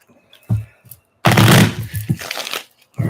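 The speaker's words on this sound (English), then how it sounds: "we'll give it one more shuffle," A deck of tarot cards is shuffled close by, with a short riffle followed by a longer burst of crisp papery flicking and slapping, then a brief final rustle.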